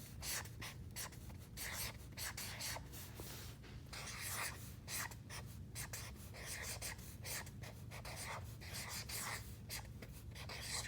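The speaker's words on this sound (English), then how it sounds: "So I'm writing that at the top of my anchor chart." A marker writing a title across a paper classroom anchor chart, with steady close squeaky strokes and short scratchy pulses continuing without pause.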